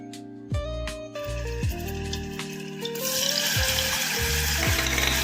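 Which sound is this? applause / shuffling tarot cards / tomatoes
tomatoes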